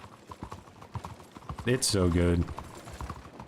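Hooves of a ridden horse clip-clop in a video game, a quick rhythmic run of hoofbeats under steady talk, with a short burst of a louder effect in the middle.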